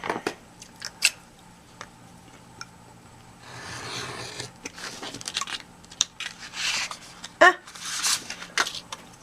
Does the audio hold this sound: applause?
no